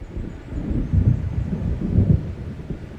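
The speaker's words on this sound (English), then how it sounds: "It seems there's a storm coming." A thunderstorm rolls in within the game Alan Wake Remastered, with low rumbling thunder swelling and fading in two broad waves over a rainy, windy hiss; no voices.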